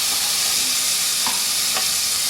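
Two finely chopped medium tomatoes are stirred into sautéed masala for Goan chicken vindaloo in a hot pan, giving a loud continuous sizzle with a couple of quick spatula scrapes, close by.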